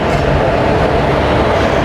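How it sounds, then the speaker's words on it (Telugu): Tirupati to Puri Express, hauled by a Vijayawada-based WP4 locomotive on its first run with LHB coaches, gives a loud, steady roar of passing train noise, close and continuous, with no voices. "ఈరోజు మనం లీడ్ చేసే లోకోమోటివ్ కలుసుకుంటే WP4 లోకోమోటివ్"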